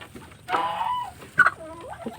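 Native chickens cluck close by in a few short bursts, with a drawn-out squawk and softer murmuring calls in between.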